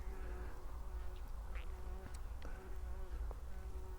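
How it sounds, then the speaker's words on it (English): A bee buzzes close by among lizard orchids in open grassland at Newmarket, a steady drone that wavers slightly as it moves, with no voices. "The bee will leave me alone."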